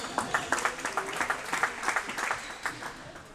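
Applause from a small crowd at a French men's basketball game, greeting a player checking in as a substitute; scattered, fairly sparse clapping of moderate loudness, fading slightly toward the end, with no talk over it.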